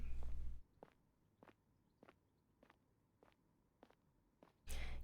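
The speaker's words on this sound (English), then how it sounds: "beyond the sound of your own footsteps and the low, mournful sighing of the wind" Footsteps in a yuri visual novel video game: about seven soft, evenly paced steps, faint and regular over near-silence, framed by louder bursts at the start and end.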